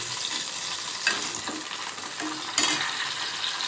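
Hot oil in a pan sizzles loudly and close with chillies, a dense steady crackle broken by a few sharper pops and stirring scrapes, with no voices.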